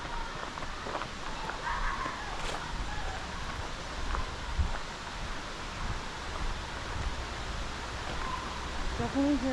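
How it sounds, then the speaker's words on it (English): River water rushing steadily near a forest trail along the Mashel River in Eatonville, Washington, a constant broadband wash with footsteps and brief voices of hikers over it. "Definitely hear the river."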